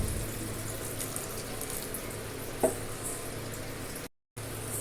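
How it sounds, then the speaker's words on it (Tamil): Water pours steadily into a pot of chicken curry with a soft, continuous splashing rush, fairly quiet and unbroken apart from a brief dropout near the end. "இந்த ஸ்டேஜில் தேவையான அளவு தண்ணி சேர்த்துக்குவோம்."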